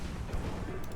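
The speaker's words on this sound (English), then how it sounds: "Torpedo hit in." Deep muffled torpedo explosion in a 1920s naval battle game with Italian cruisers, a brief broadband rumbling boom heard from a distance and lasting about a second.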